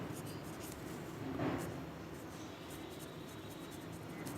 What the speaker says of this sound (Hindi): तो रिकॉन्सिलेशन मैं लिख देता हूँ पहले